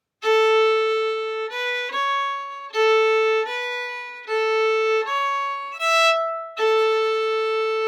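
A solo melodic instrument plays two joined phrases of the Irish hornpipe Britches Full of Stitches, with clear sustained notes in a steady, lilting rhythm, loud and close with no talk.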